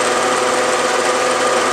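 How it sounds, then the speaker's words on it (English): A milling machine center drilling holes in metal work set on parallels in a machine shop, a loud continuous motor whir and grinding hum filling the short stretch without talk. "I'm locking the table and I'm drilling"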